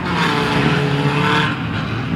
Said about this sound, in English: Amazingly, it's still running with the back wheel spinning.